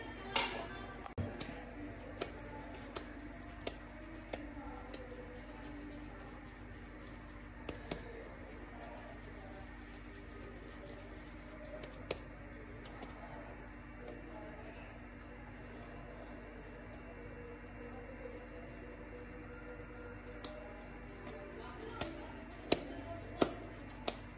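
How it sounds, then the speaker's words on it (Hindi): A knife cuts naan dough into small pieces, leaving sparse light taps and clicks against the board scattered over a steady background hum. "मैं छुरी की मदद से इसके छोटे छोटे पीस काट लूंगी।"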